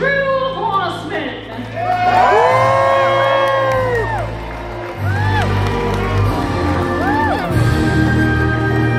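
A crowd at a Medieval Times dinner show in Scottsdale, Arizona, cheering, whooping and shouting loudly in a large arena, with sustained roaring and children's high-pitched yells throughout.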